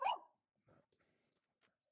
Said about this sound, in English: There goes the puppy again.